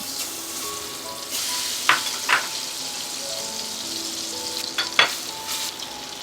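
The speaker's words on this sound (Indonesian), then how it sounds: "Dalam wajan kita akan lelehkan dulu margarin sebanyak 50 gram." Fifty grams of margarine melting in a frying pan gives a steady, close sizzle and fizz, with a few sharper pops and stirring clicks breaking through; no one speaks.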